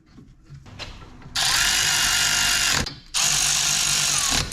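Power tool driving brake caliper bolts on a Jeep Liberty during a wheel bearing job, two loud sustained bursts of whirring, each over a second long, separated by a short pause, with faint handling noise before.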